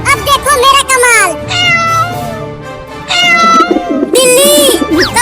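A cartoon cat yowls and meows repeatedly in bright, rising and falling cries while trying to catch a pigeon, with animated voices talking over and between the calls.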